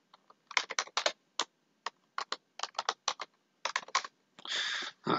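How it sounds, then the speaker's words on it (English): A password is typed on a computer keyboard in short, irregular clusters of crisp key clicks, close and clear with no talking, ending in a longer rattling press. "Let me just type in a little password."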